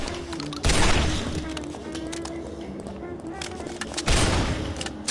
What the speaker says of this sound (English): There you go, get the shotgun out.